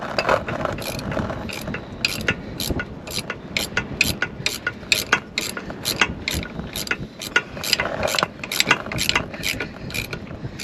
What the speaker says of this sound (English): So now we're going to tighten the bolt up underneath.